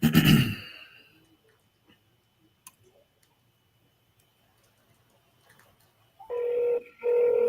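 A regular telephone being dialed gives two short, bright touch-tone beeps near the end, after a brief rustle and a long quiet stretch.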